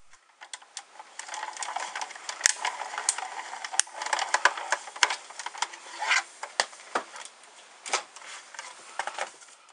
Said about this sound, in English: run through the die cut machine